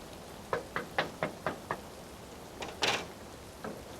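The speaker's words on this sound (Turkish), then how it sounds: "Evde çal bakayım kapıyı." Someone knocks on a house door, six sharp raps in a steady row followed by a couple of heavier, louder thuds, close by in a quiet room.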